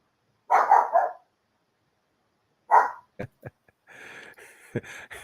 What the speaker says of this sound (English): my dog is greeting somebody at the door